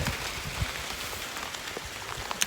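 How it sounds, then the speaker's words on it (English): Heavy rain pours down outdoors onto a farm yard with a knocked-over grain bin and spilled grain, a steady dense hiss of drops with occasional louder splats, no voices. "and it's pouring. It's pouring."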